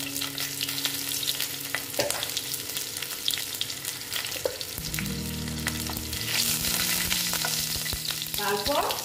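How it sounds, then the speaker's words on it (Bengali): Two green chillies and black cumin (kalonji) fry in hot oil for a koi fish dish, a continuous sizzling hiss that swells louder midway, with occasional stirring taps and spatters. "এবার আমি 2টো কাঁচা লঙ্কা দিয়ে দিচ্ছি। তারপরে দিচ্ছি কালো জিরে।"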